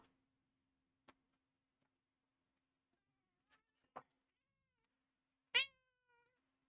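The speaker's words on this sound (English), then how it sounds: "My cat is staring at me." A house cat gives one short, clear meow near the end after a few faint clicks and taps, close by in an otherwise quiet room.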